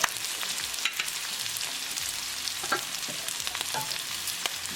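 Onion sautés in a hot pan and is kept moving, giving a steady, soft sizzle with scattered crackles and faint stirring scrapes throughout.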